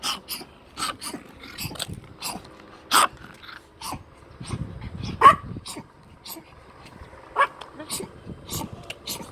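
Several dogs bark in bursts, sharp yaps scattered across the scene at varying distances, mixed with people talking and some rattling, mechanical clatter in the background.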